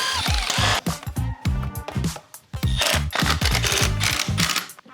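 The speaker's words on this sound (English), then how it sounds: "I'm gonna take this fender off real quick just to see if these bolts will just go straight back in" Fender bolts come off a 2025 Ibex 450 with a power tool, heard as a close series of loud, rapid ratcheting bursts separated by short pauses, no talking.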